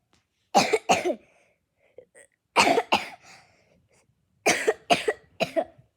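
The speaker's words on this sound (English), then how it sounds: "Sorry, guys, I have a big cough." Three separate bouts of coughing from someone with a cold, each a quick cluster of harsh, close coughs, separated by quiet pauses.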